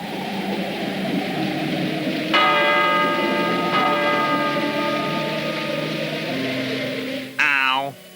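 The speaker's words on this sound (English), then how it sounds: "So they rang the bell." A castle doorbell rung in a cartoon, sounding as two bright chiming bell strikes that ring out and decay, followed by a short rising-and-falling warbling tone near the end.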